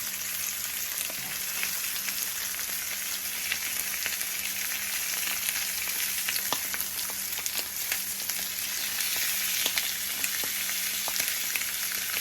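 A salmon fillet glazed with sweet chili sears in a frying pan, giving a steady, close sizzle with fine crackling and spitting that runs on evenly throughout.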